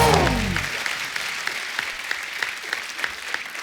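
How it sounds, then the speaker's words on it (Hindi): Steady applause from a studio audience on The Kapil Sharma Show, loud at first and then settling into a continuous, even clapping that carries on for several seconds. "दादा के लिए जोरदार तालियां हो जाए एक बार"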